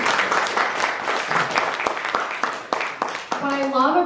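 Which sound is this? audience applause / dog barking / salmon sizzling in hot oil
audience applause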